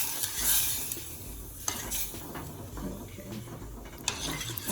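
Beef stew meat is stirred in a pot with a little water, Puerto Rican style, giving a continuous scraping and sloshing with a few sharper clinks of the spoon against the pot. No one speaks.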